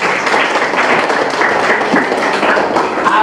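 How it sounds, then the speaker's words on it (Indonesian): Students in a classroom clapping together, a dense, steady burst of applause lasting a few seconds with no talking. "Benar sekali, tepuk tangan semua."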